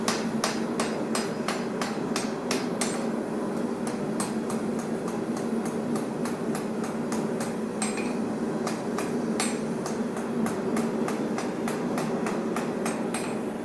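Steady hammer blows on welded steel at a blacksmith's forge, a rapid, regular series of sharp metallic strikes ringing close and loud over a constant background roar.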